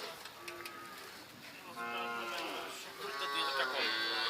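Cattle low with drawn-out moos at the Athharo Mile cattle market, with calves on sale. The calls are moderately distant, and crowd noise and murmured voices run steadily underneath.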